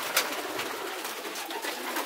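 Racing pigeons of the Mona Lisa and Rocket strains coo in a loft, soft repeated coos over a low airy background, fairly close and without any talk.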